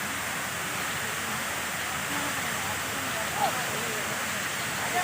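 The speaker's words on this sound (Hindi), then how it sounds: "ये सामने देखिए पवई का झरना है। यहाँ से पानी बह रहा है।" Steady broadband rush of water from a waterfall at Powai, Mumbai, a constant wash heard from nearby with no breaks.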